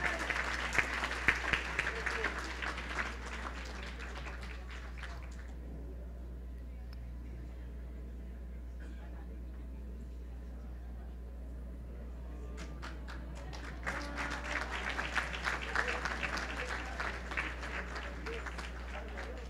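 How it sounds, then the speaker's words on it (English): A crowd applauds to welcome a junior tassa drumming group at a Hindu puja event, with loud clapping at the start that fades to a low lull, then builds again near the end over a steady background hum. "Let us welcome them with a round of applause."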